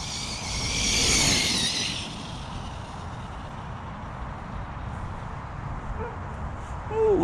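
ARRMA Talio RC car racing fast across grass, a loud high whining motor rising near the start and then holding a steady rushing drone over rough outdoor background noise.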